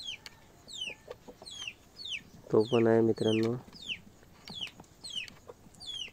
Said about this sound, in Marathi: आपण हा नवीन कोंबडा विकत आणला आहे